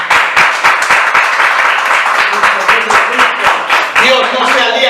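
A church congregation claps in loud, rhythmic unison during a sermon, the sharp beats keeping a fast steady pulse while a voice carries on over them and a musical tone rises near the end.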